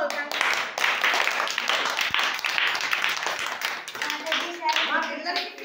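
Children clap together at a prize distribution at a devotional gathering, sustained and fairly close, with voices and chatter mixed in.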